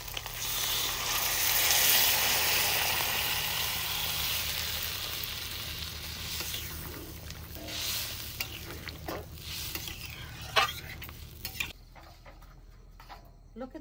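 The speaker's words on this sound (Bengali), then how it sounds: "তরকারিতে জাল উঠে গেছে না?" Country duck meat curry cooked with spices, oil and hot water bubbles and sizzles in a pot, with a steady close simmer, occasional stirring scrapes and utensil clinks, quieter and more broken toward the end.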